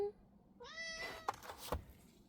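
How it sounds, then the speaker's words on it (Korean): Cats meow for food nearby, one clear rising, drawn-out meow followed by a couple of shorter, sharper calls and faint knocks, fairly quiet against a hushed background. "고양이들이 밥을 달라고 그러는 것 같아요"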